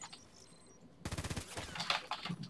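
Rapid automatic fire from an X95-R assault rifle in the first-person shooter Contract Wars, a quiet lead-in then a sudden, steady burst of closely spaced shots with sharp cracks running to the end.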